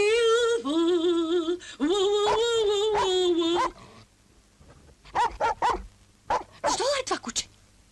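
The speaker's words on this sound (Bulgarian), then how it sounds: "Що е това куче?" A dog barks and whimpers in a Bulgarian television scene, with long tonal whining cries at first, then a series of short yips and barks after a brief pause, close and fairly loud.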